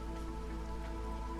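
Steady rainfall in the video game Against the Storm, a dense, even hiss of drops over a low rumble that stays unchanged throughout, with no voices.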